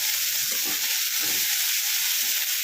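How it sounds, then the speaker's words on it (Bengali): Onions frying gently with a little turmeric for egg do pyaja, a steady close hissing sizzle with faint stirring sounds throughout. "এটাকে পোড়ানো যাবে না, কিংবা খুব কড়কড়ে করে ভাজা যাবে না, খুব নরম করে ভাজতে হবে।"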